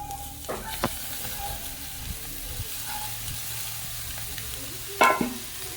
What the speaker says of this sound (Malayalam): അതിനുശേഷം നമ്മൾ റെഡിയാക്കി വെച്ചിരിക്കുന്ന കക്ക ഇതിലേക്ക് ഇട്ട് കൊടുക്കും